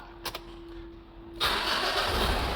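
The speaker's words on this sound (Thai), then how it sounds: "ลองสตาร์ทเครื่องซะหน่อย" A 2012 Mitsubishi Triton 4WD pickup turns over: a quiet whine and a couple of clicks, then the engine catches abruptly and settles into a steady, fairly loud idle.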